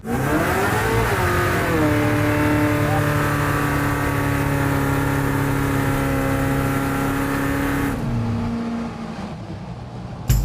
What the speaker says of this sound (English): it's a 600 horsepower big block swap. Let's burn some rubber.